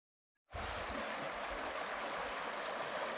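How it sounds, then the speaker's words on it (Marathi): After a brief silence, rushing stream water comes in and flows steadily, a constant bubbling wash that stays even to the end. "खळखळ पाण्याचं संगीत किती सुंदर वाटते बघा"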